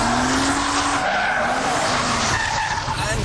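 Lotus Carlton driven hard on a racetrack, its tires squealing loudly and continuously with a screeching whine over the roaring engine.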